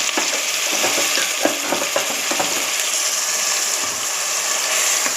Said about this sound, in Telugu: ఆయిల్ వేడాక జీలకర్ర, కొంచెం సాజీర వేద్దాము. అలానే దీంట్లో ఉల్లిపాయ పేస్ట్ వేద్దాం.